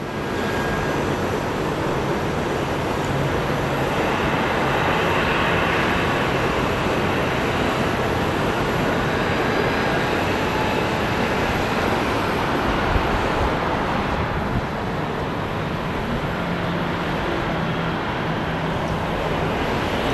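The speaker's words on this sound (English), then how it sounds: "This is the plane that I was personally asked to film." An airplane at Sky Harbor International Airport roars in a loud, continuous broadband rumble that swells slightly and fades a little near the end, with no talk over it.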